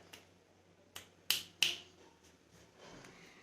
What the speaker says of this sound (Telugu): చిటికలు కూడా వేస్తుంది